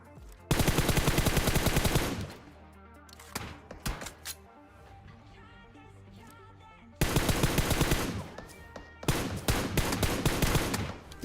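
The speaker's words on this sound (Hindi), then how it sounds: "तो यहाँ पर मैं M4 की 15 बुलेट में इनके 2 बंदे नॉकडाउन कर देता हूँ फटाफट से" Rapid bursts of M4 rifle fire in PUBG Mobile, with loud, close, dense volleys around the start and again near the end, and scattered shorter shots in between.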